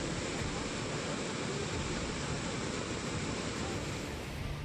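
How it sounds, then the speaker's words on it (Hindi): A flooded river after a cloudburst in Tehri, Uttarakhand, roars with a dense, constant rush of churning water, steady and loud for the whole stretch with no voices. "सैलाब का ये शोर डरा रहा है।"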